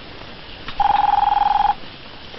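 A telephone rings in a quiet room, a single steady electronic tone lasting about a second, heard clearly on its own with no talk.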